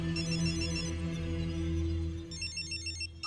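A telephone rings with repeated electronic trills in a tense film scene. The rings come in two bursts, one at the start and one near the end, over a low background hum.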